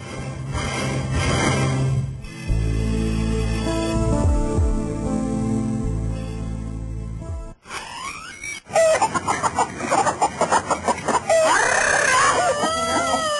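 Chickens cluck and a rooster crows loudly in a rural village scene, the calls rising and breaking off repeatedly over a dense, shifting backdrop of other sound, with no talking.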